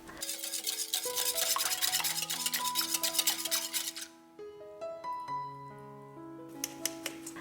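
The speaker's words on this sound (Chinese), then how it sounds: "倒入牛奶，充分的混合" Milk being whisked into a bowl of eggs and fine sugar for mango pancake batter, a continuous rapid scraping stir for about four seconds, then quieter, over soft piano music.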